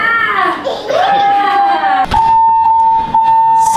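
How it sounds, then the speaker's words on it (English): A fire alarm going off indoors, a steady high electronic tone that holds after a sharp knock, heard over a noisy background with people talking beforehand. "Starting off the day with a fire alarm emergency thing."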